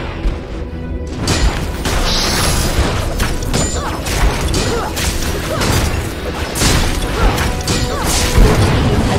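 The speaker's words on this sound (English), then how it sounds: "Your team has destroyed a turret." Turret destruction in League of Legends, a loud crashing, booming collapse with mechanical clatter and whooshing debris layered over continuous game effects, several impacts spread across the stretch.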